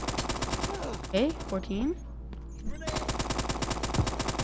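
Rapid video-game gunfire from a Roblox shooter modeled on Overwatch, dense repeated shots at the start and again after a short lull, with a voice speaking briefly in between.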